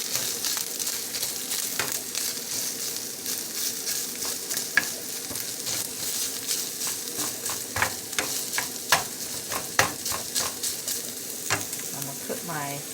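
Meat for spaghetti frying and sizzling steadily in a pan while a utensil stirs and scrapes it, with irregular clinks and scrapes over the continuous hiss.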